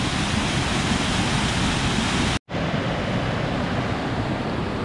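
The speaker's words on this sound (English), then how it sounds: "These are cool falls." A waterfall at Amnicon Falls State Park roars loud and steady up close, a constant broadband rush of falling water broken only by one brief cut near the middle.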